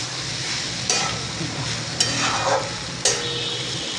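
Green bean curry with raw crushed peanut powder being stirred and sautéed in oil in a pan over high flame, a steady close sizzle with three sharp spoon scrapes against the pan at regular intervals.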